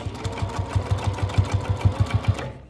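A sewing machine backstitches through face mask fabric in fast, steady, evenly pulsing bursts, close and loud, with no talking.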